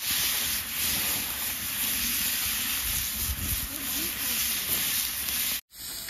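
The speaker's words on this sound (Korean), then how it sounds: "호박 완전 지글지글 끓는다." Continuous close sizzling hiss of pumpkin frying in a pan at an outdoor glamping site in the Catskills, broken by a brief dropout near the end.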